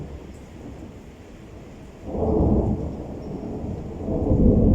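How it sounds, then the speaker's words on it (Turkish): Rumbling thunder rolls in during a spring rainstorm in Antalya, a deep swelling boom that grows louder partway through over steady rain noise. "Hala şimşek atıyor."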